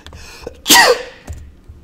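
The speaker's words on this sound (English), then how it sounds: "oh, I'm going to sneeze." A single sharp sneeze bursts out close by, loud and breathy, with quiet shuffling before and after.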